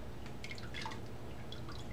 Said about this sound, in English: Going to kind of turn that upside down, encourage the dripping to come off the top edge.